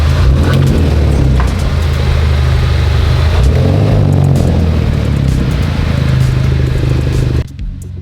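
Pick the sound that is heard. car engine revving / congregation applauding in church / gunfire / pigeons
car engine revving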